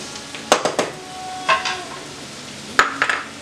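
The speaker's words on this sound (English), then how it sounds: "I'm going to put in the garlic" Garlic going into a pan of sizzling sausage and peppers, with a low frying hiss underneath and several sharp utensil scrapes and clinks in short bursts, close by and without talk.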